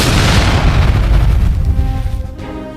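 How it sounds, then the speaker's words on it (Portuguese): A briefcase bomb goes off under a table in a meeting room, a loud, dense booming blast that fills the clip and slowly rolls off into a fading rumble. "A explosão que se seguiu foi terrível"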